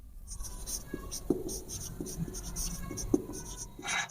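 Pen scratching on paper or board during a class 10 maths lesson on quadratic equations, with a few soft strokes and taps close by over steady room hiss.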